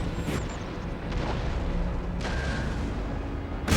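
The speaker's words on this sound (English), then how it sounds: "artillery" Artillery fire in Empire: Total War, several muffled booms spaced across a few seconds over steady battle noise, ending in a louder crack.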